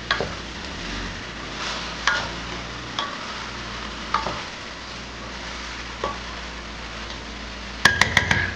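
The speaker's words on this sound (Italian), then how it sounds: "Mescolo." Rabbit cacciatora being stirred with salt in a pan: scraping spoon strokes and light clinks recur every second or so over a steady sizzle, with a burst of rapid knocks near the end.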